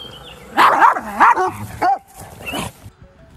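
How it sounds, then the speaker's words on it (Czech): A startled dog barks sharply in a garden: a close, loud burst of several yelping barks, a brief pause, then one more bark before things quiet down. "Lekl se, zaštěkal a chtěl, ať jde Bob pryč"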